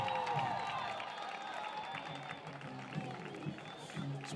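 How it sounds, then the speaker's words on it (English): A rowdy crowd at a high school football game, cheering and applauding from the stands at a moderate distance, with a loud burst at the start that settles into a steady roar, voices talking over it. "It's a rowdy crowd tonight, and I love it."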